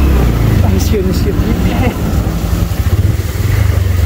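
A motorcycle engine runs on a rough, muddy road, a loud, close, uneven rumble that throbs and varies with the bumpy surface.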